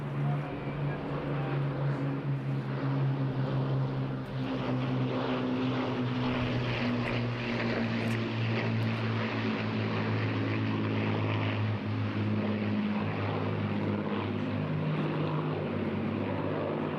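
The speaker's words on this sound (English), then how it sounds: "our fleet of World War II aircraft are preserved in flying condition" World War II propeller aircraft at the Eastbourne International Airshow drone overhead in a continuous, loud engine roar that slowly shifts pitch as they pass, with no talk over it.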